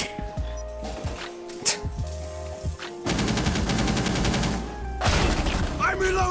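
Gunfire in the video game Rainbow Six Siege: scattered shots give way to sustained, rapid automatic bursts that are loud and close, with faint voices in the background.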